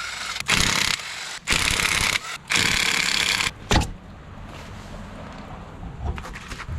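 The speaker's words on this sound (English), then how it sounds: "So we'll go ahead and take this wheel off." Car wheel being removed to fit a wheel spacer: three loud, sustained bursts of an impact wrench buzzing off the lug nuts, each about a second long, then a sharp clunk and quieter handling noises.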